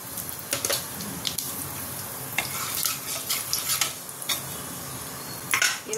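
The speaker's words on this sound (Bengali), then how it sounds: "কড়াই একটুখানি ফোড়ন দিতে হবে। দেব 5 ফোড়ন।" Five-spice tempering sizzles in leftover fish-frying oil in a wok, a busy crackling fry with stirring scrapes and the odd metal clink running continuously and close.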